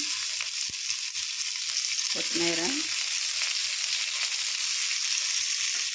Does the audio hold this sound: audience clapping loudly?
no